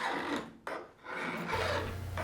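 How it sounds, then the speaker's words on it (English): A hand file rasps back and forth across a steel pin punch, shaping it round, in repeated close strokes with short pauses between passes. "Just keep sliding it back and forth until you get a nice round shape"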